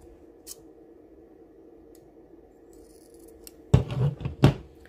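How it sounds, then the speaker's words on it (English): Scissors snip off excess paper in a quiet room: a few crisp, close cuts bunched together near the end after a near-silent stretch. "And then again, snip off your excess."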